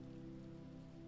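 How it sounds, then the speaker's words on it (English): Gentle rain patters steadily on a temple rooftop, a soft, even wash of drops with a low, constant hum underneath and no voices. "A final drizzle begins, tapping the rooftop with renewed softness."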